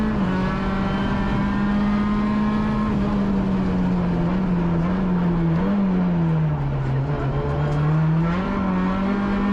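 Peugeot 106 Rallye rally car engine droning steadily on a stage, short-shifted and held at light throttle, loud and close with a sustained tone that dips and rises slightly, no voices.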